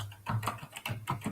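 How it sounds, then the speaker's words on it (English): Someone types on a computer keyboard during an online call, with a quick uneven run of soft, close key clicks and no voices. "Somebody is typing"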